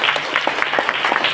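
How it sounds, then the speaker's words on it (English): Audience applause fills the room, a dense continuous patter of many hands clapping at steady loudness with a faint voice underneath. "please give a big round of applause"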